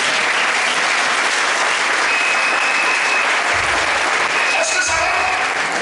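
A church congregation claps loudly in a dense, continuous burst during a service. The applause stays steady and close throughout, with a few voices just audible beneath it.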